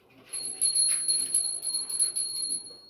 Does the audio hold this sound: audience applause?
no